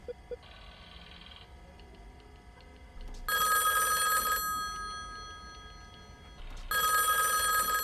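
An old telephone bell rings in two loud bursts of about a second each, separated by a pause over a quiet room.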